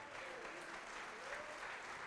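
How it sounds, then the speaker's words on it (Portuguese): A church congregation applauds, dense steady clapping from many hands filling the room at a sustained even level. "Vamos aplaudir ao Senhor"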